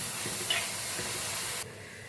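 Chopped ripe tomatoes sautéing in a pan give off a soft steady hiss with a light stir, heard close, then the sound drops away abruptly near the end.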